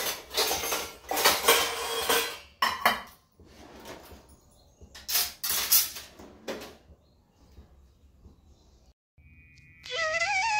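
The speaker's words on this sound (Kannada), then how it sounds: "ಸೊ ಅದಕ್ಕೋಸ್ಕರ ರಾತ್ರಿ ತೊಳೆದಿಟ್ಟಿರೋ ಪಾತ್ರೆ ಯೂಶ್ವಲಿ ಆ ಟೈಮಲ್ಲೇ ನಾನು ಪಟ ಅಂತ ಎತ್ತಿಟ್ಬಿಡ್ತೀನಿ." Washed dishes and pots being put away after an overnight soak at home in the morning: clattering ceramic and metal knocks and cutlery clinks in bursts, close by, with quieter gaps and a faint tonal beep near the end; no talking.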